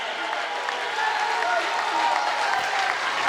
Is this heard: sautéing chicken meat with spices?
no